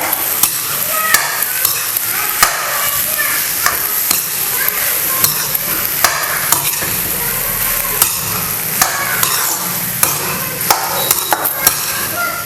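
A spoon or ladle steadily stirs and scrapes through a thick dosa batter made from ration rice and mixed with mashed potato. The wet, slushy strokes come close and loud in a continuous rhythm, with sharper knocks against the bowl every second or so.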